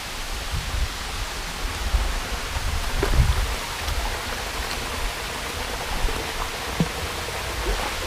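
Pagkilatan Falls, a waterfall feeding a stone-lined bathing pool, gives a steady broadband rush of falling water, moderately close, with a few faint splashes and no voices.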